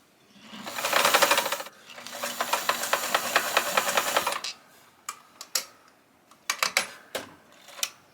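A vintage sewing machine runs in two sustained bursts of fast, even stitching, fairly close, then stops and leaves only scattered short clicks and handling knocks.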